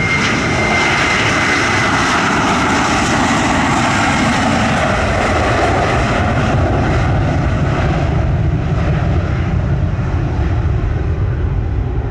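Heavy airliner taking off at Montego Bay airport in Jamaica: a loud, continuous engine roar that dominates throughout and slowly recedes toward the end.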